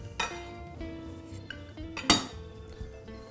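Freshly chopped garlic tipped into a pan, with a knife or spoon clinking and tapping against the metal in a few bright, close knocks and soft scrapes.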